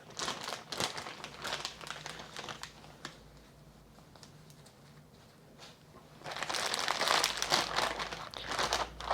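A plastic bag of marinating pork belly is squeezed and pressed to force the air out, making close, irregular crinkling and rustling that rises, fades and then grows louder again.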